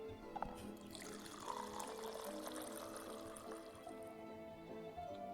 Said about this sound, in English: Dirty water goes in here and comes out crystal clear on the other end.